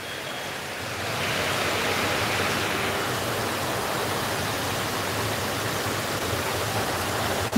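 Torrential rain falls on a flooding street in Sylhet, a broad, even hiss of downpour that swells in after the first second and then holds steady and loud throughout, with no voices.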